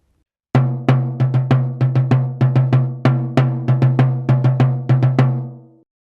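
A single pitched drum plays a quick rhythmic phrase of sharp, ringing hits, some struck a little louder, in steady groups before fading out.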